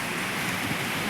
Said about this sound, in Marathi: पावसाचे थेंब पडत होते.